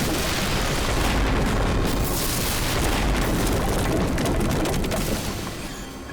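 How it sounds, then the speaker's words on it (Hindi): A bomb blast in a Hindi crime-drama scene: a loud, sustained broadband boom with rumbling debris roars for about five seconds at close range, then begins to fade, with no talking over it. "और ये हुआ धमाका।"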